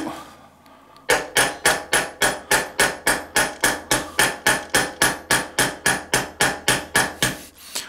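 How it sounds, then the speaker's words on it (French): A hammer taps rivets into a Victorinox knife in a workshop vise, delivering a steady run of about twenty sharp, evenly spaced metallic blows, close and loud, after a brief quiet start. "taper des petits coups secs, mais pas comme un bourrin"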